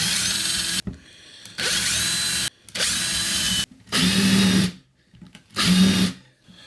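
A power drill boring pilot holes and countersinks in wood, heard as five separate bursts of whirring with short pauses between them, close by and loud, with no speech.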